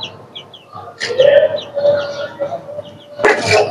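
A chicken being swung back and forth in a Bengali household gives sporadic clucks and squawks, close and fairly loud, with a sharp burst near the end and birds chirping faintly in the background.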